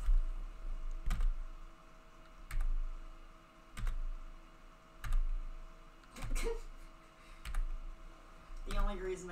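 Computer mouse clicks and keyboard typing at a desk, sharp taps repeating about every second and a quarter with a short flurry of keys near the end, close and clear beneath a person talking.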